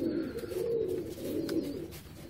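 Pigeon cooing close by: a low, continuous throaty warble that rolls on steadily without pause.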